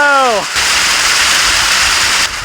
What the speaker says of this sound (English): Oh, that's hail.